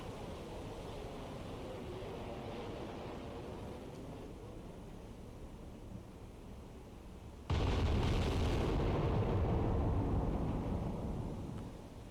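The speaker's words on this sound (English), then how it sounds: "Let's open up with the guns again." Heavy naval gun fire from the battleship New Jersey in the submarine game Cold Waters: a dense rumbling barrage that jumps suddenly louder midway, a sustained roaring boom with no voices.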